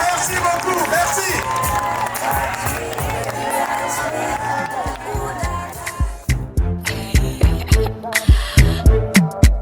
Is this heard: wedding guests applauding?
yes